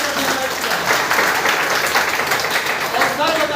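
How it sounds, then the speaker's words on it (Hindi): Audience applause for a great leader at a business leadership program event in Kota, Bilaspur, Chhattisgarh: steady, dense clapping from a crowd fills the whole stretch at an even loudness. "जिनको जोरदार ताली के साथ"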